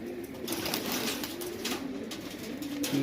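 A male Madrasi pigeon coos in a low, steady murmur that runs continuously for a few seconds at close range, with no talking over it.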